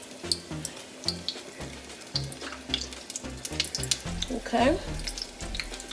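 A homemade donut drops into hot oil and fries with a soft, steady sizzle under rhythmic background music, while a voice briefly says a single word.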